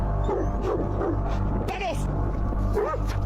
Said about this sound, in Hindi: कुत्ते भाई बहुत जोर से भौंक रहे हैं